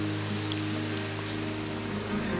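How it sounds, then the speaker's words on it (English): Steady rain falls on a surface on Buton Island in Southeast Sulawesi, Indonesia, a dense continuous patter close by with no voices. "I hope that the rain will go away soon."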